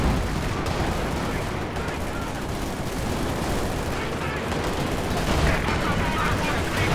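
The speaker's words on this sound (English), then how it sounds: "Sniper shot from that Panzer IV close to max range" A Panzer IV tank gun fires in a Company of Heroes 2 battle, buried in a dense, steady wash of gunfire and explosions that rumbles on throughout without a clearly separate shot.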